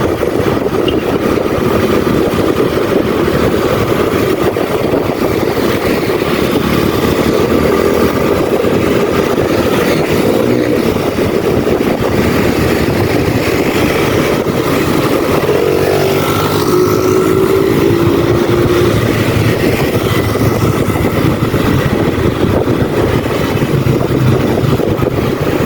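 A 2024 Rusi Sigma 250 motorcycle engine runs continuously and loudly, a dense buzzing rumble that holds steady over about twenty-five seconds, with no talk over it.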